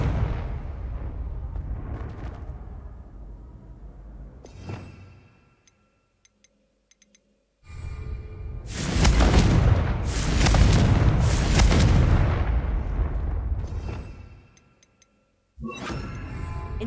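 Confringo blasting spells go off in Hogwarts Legacy as loud, booming explosions with crackling debris, a sustained blast, a brief quiet gap, a heavier roaring burst and another eruption at the end.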